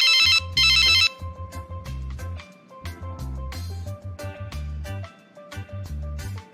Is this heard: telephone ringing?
yes